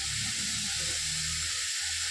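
Chopped onion with a pinch of salt sautéing in a pan for chicken curry, a steady soft hiss and sizzle running throughout with a faint low rumble beneath.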